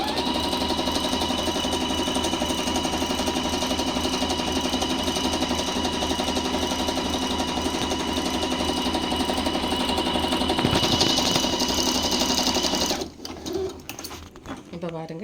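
A tabletop sewing machine stitches in a fast, continuous mechanical whir close by, its tone shifting briefly near the end before the motor slows and stops.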